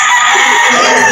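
A rooster crows loudly and close at a poultry market in Lipa, Batangas, one continuous harsh call filling the whole moment with no other sounds.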